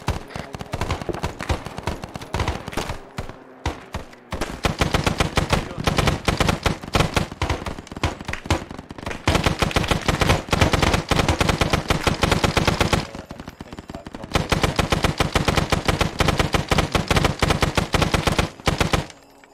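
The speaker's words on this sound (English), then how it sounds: "Shots coming in from the south," Heavy automatic gunfire in the military shooter Arma 3, set in Vietnam: long sustained machine-gun bursts separated by short pauses, loud and close, with no talk over them.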